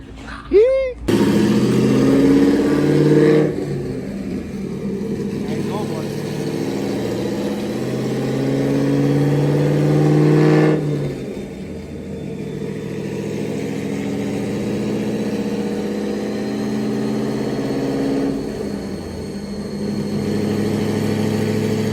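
A Corvette C5 Z06 engine drones steadily on a dyno, rising and falling through long pulls with a sustained mechanical hum, loud and close, as people talk over it.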